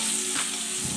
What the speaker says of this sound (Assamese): মই এতিয়া লেচেৰা ভাজি আছোঁ।